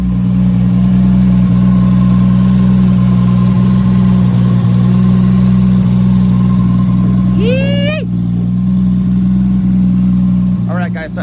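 A JDM JZZ30 Soarer engine idles steadily up close with a deep, constant rumble, while a couple of brief chirpy sounds rise near the end.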